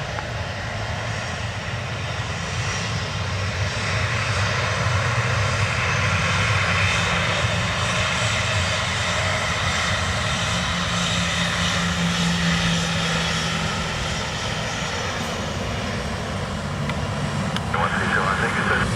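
A Ryanair airliner taxis at Dublin Airport on a wet, windy day, a loud continuous engine drone and whine holding steady throughout, with voices talking over it.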